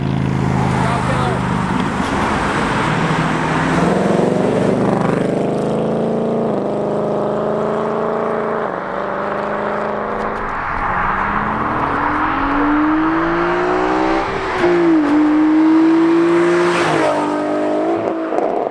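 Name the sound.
Ford Mustang car driving past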